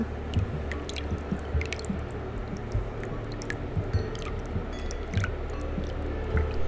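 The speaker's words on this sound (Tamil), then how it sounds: "இந்த தக்காளியை நல்லா கிண்டி விட்டுறலாம். இது வதங்கட்டும்." Tomatoes being mashed and stirred in a frying pan for a village-style anchovy curry, with wet squishing, sizzling drips and scraping clicks from the spoon, steady and close.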